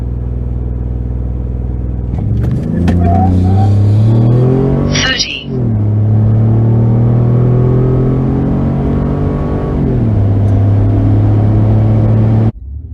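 A Ford F150 EcoBoost pickup is brake-boosted and then launched, its engine rumbling at idle, rising to a loud sustained rev, dipping briefly, then holding high before cutting off abruptly. Voices are heard over the engine.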